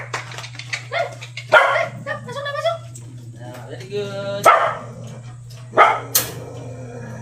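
Dogs bark in several short bursts at close range in a home yard, mixed with a person speaking over them and a steady low electrical hum underneath.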